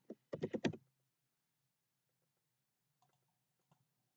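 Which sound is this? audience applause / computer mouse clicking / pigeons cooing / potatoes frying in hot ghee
computer mouse clicking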